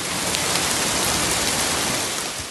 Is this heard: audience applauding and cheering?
no